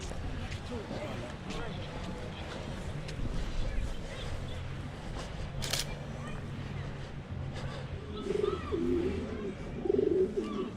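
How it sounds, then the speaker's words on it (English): Pigeons resting under a bridge coo softly in a few low, throaty bursts near the end, over quiet outdoor background noise with a camera shutter click midway. "Can you hear the pigeons? They're all resting underneath the bridge."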